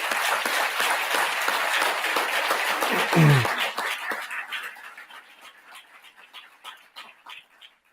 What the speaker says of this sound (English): I want to take a moment just to do one more round of applause to congratulate today's 4 teams